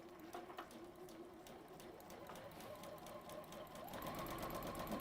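A sewing machine stitches a garment seam, working around the shoulder, with a soft, steady mechanical hum and faint needle ticking heard close but quietly, growing slightly louder toward the end.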